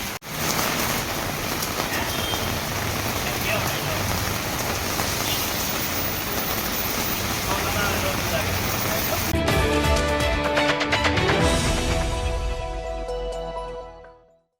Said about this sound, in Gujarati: કચેરી રોડ, બેચર રોડ વિસ્તારમાં વરસાદ પડી રહ્યો છે.